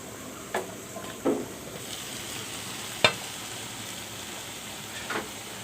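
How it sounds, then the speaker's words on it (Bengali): Small fish frying in a pan, a faint steady sizzle with a few light spatula knocks and scrapes spaced apart as the fish are gently stirred. "আস্তে আস্তে করে নাড়া দিতে হবে"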